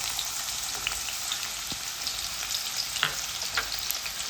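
Finely chopped onion frying in hot oil for a prawn curry, a dense, close crackling sizzle with occasional sharp pops and stirring clicks, steady throughout and with no voices.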